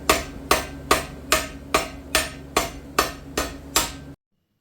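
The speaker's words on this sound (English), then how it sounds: "Now it's time to rivet the legs on." Nine evenly spaced hammer blows ring out while riveting the legs onto a forged iron rushlight, each a crisp metallic strike with a short decay, close and loud, ending abruptly in silence.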